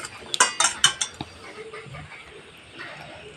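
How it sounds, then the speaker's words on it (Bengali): Eggs are beaten in a bowl with a beater: a burst of quick, sharp metallic clinks, then softer, steadier whisking strokes, close and fairly quiet. "ফেটিয়ে নিচ্ছি ডিমটা"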